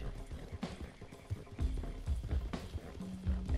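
A horse gallops during an online horse race in Red Dead Redemption 2, with rhythmic low hoof thuds under a busy game mix and occasional short tonal cues.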